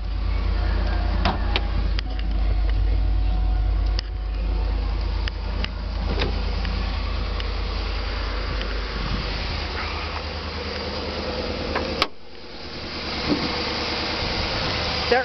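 A 6.2 liter V8 engine idles with a steady, low, droning rumble, heard close and continuous, interrupted by a brief click and a short dip before the hum resumes.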